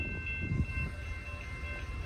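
An eastbound train passing at a railfanning spot in Muncie, a steady low rumble with faint whine and clatter held throughout at a moderate distance, no voices.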